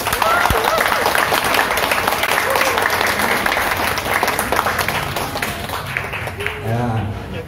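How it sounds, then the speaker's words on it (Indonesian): Applause from an audience at a poetry reading with mime, broad steady clapping throughout with speech and voices mixed in over the top. "Tepuk tangan untuk kita."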